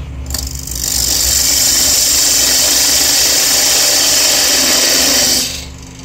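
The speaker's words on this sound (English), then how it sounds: "you took your parting tool and you make this tenon." A wood lathe spins while a parting tool cuts a tenon on a curly-wood pepper grinder, a loud, steady whirring scrape that swells in, holds for several seconds, then fades out.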